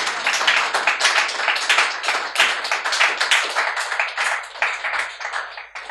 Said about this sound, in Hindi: तभी आपकी तालियों से मुझे पता लग रहा है